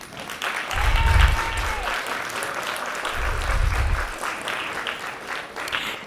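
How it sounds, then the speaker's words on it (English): Audience applause at a university education pinning ceremony: sustained, dense clapping from a crowd, steady throughout with a few low thumps beneath it. "give a hand clap to all these people who supported you to get here"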